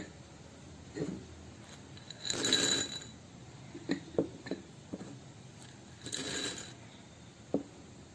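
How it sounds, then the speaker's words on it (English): Handfuls of mixed dry grains pour into an empty bowl in two short rattling rushes, with light clinks and taps between them, close and quiet. "Now all the grains we will mix in empty bowl."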